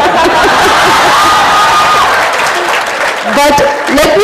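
Audience at a Jaipur Literature Festival 2016 session applauding and cheering, a dense continuous wash of clapping with crowd noise and voices mixed in, steady and loud throughout.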